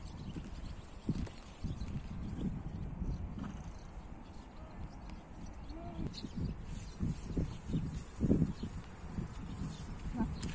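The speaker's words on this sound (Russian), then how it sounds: "Вот лошадка-то." A horse at a hippodrome snorts and shifts, with soft hoof thuds and scattered bursts of movement over several seconds, heard close under faint background voices.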